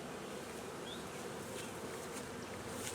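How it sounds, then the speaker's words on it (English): Honey bees hum in a dense, continuous buzz around a hive just after being transferred in, with a few individual insects droning close by over the steady swarm. "We got all the bees transferred over"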